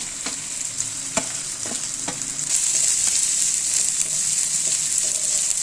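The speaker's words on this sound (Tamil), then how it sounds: "ஒரு 1/4 கிலோ அளவுக்கு நான் சின்ன வெங்காயம் கட் பண்ணி வச்சுருக்கேன். வதக்கிக்கலாம்." Small shallots sizzle loudly in a pan as they are sautéed, with sharp spatula strikes and scrapes punctuating the steady frying hiss, which grows stronger partway through.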